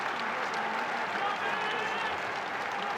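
Dense, roaring cheers and applause from a packed pro wrestling arena crowd across three tiered levels during a Tokyo bout, a steady loud wash with no break throughout.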